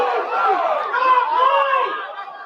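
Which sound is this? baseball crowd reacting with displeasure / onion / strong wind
baseball crowd reacting with displeasure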